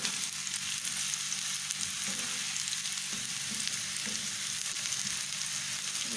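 Chopped onions fry in a pan as the first step of a spicy fish curry (fish salan), giving a steady, even sizzle with faint soft clinks, close and continuous throughout with no talking.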